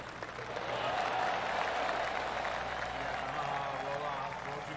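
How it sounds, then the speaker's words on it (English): Golf gallery applause in a video game after a strong approach shot into birdie range on the 6th hole, a steady, sustained wash of clapping from a crowd at moderate distance, swelling quickly and holding for several seconds. "That deserves a golf clap."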